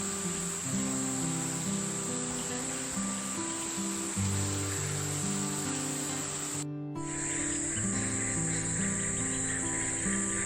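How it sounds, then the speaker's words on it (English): Dense, continuous chorus of frogs calling from the frog habitat at a Palm Cove hotel in tropical Queensland, steady trilling and piping notes layered over a constant high hiss of insects, with a brief dropout midway. "They have a frog habitat here, and as you can hear in the video, it's just spectacular."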